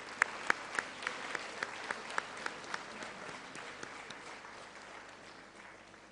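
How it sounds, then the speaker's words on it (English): A lecture audience claps for a music group: a short run of distinct, evenly spaced claps that stand out at first, then blur into soft, scattered applause that fades away quietly. "Shall we please clap for them?"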